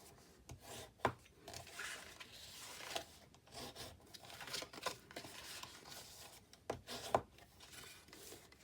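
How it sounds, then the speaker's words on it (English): Burnishing score lines on paper pieces for a long box: soft, quiet rubbing and rasping strokes, repeated in an uneven rhythm with short pauses, close by and without speech. "on the smaller pieces, we're going to burnish all of the score lines again"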